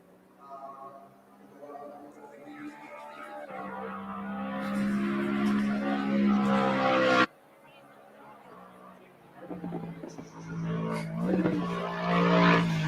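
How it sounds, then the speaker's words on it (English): A race car engine note from the sim racing game Assetto Corsa Competizione rises and revs in long pulls, cuts off abruptly, then builds again, with a person talking over it throughout. "particularly with Assetto Corsa Competizione, they got the engine notes down"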